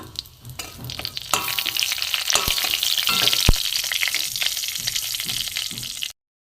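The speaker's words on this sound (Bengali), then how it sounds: "এখানে তেজপাতা, জিরে সব ভাজা হয়ে গেছে" Bay leaf, dried red chilli and cumin fry in hot oil in a blackened wok, a loud bright sizzle with scraping stirs and a few sharp clicks, cutting off abruptly near the end.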